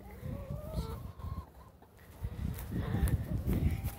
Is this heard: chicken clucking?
yes